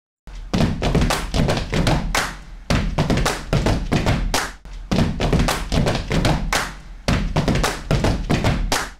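Thuds and taps, apparently made by hand, are arranged into a repeating rhythm pattern. The beats are close and loud and fall in steady groups with short pauses between phrases, and no one speaks.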